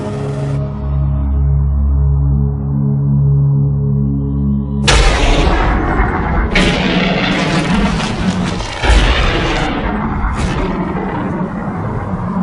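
A low hum gives way to a sudden loud blast of explosive charges detonating on a mountain, followed by heavy rumbling and further booming bursts that roll on and fade unevenly.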